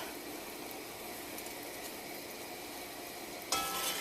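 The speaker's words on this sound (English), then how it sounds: "I'm just going to keep stirring it." Sugar sizzling and frothing in a pot while being stirred for Caribbean stew chicken, a steady, faint hiss with a sharper scrape of the stirring near the end.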